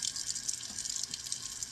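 Water runs steadily from a tap, a continuous hiss with faint splashing and no voices.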